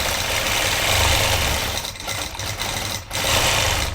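A sewing machine stitches steadily while free-motion quilting and thread painting a border design, its fast, even motor hum and needle patter running continuously and fairly loud with only brief slight dips.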